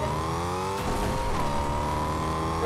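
Car driving in a multiplayer battle royale video game, a loud sustained engine drone with rising and falling revs and a brief rush of passing noise, close and continuous.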